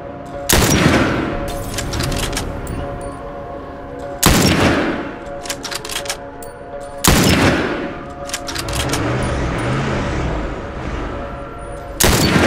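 Gunfire in The Last of Us video game, four loud, sharp shots spaced a few seconds apart, each followed by a ringing tail and low game ambience, with no talking.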